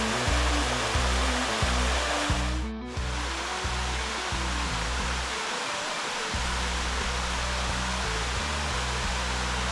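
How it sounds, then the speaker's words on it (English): Rushing water from a valley waterfall pours in a loud, continuous broadband roar, heard up close and steady throughout, with a faint low rhythmic pulsing underneath and no voices. "Love the sound of rushing water."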